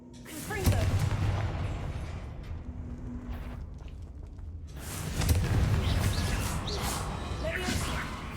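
The Confringo blasting curse cast in Hogwarts Legacy, heard as two loud booming blasts with crashing, rumbling impact noise, the second coming about four seconds after the first, while a voice speaks.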